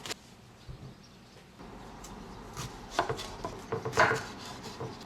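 Knife chopping tomatoes on a board at home, quiet at first, then a cluster of closer, firmer taps toward the end with no voices.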